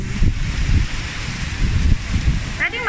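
Strong gusting wind during a typhoon, rough buffeting noise that swells and fades in waves across the microphone, with a brief voice fragment near the end.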